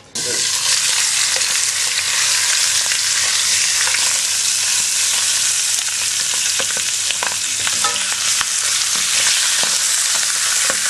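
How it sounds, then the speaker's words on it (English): Baby poussin browning in a hot pan on the stove, a loud, steady sizzle of frying that fills the whole stretch, with occasional small pops and clicks of the pan and no talk. "they're ready to go into a hot pan, which I've got on the stove, and I'm going to brown them up for a couple of minutes on each side"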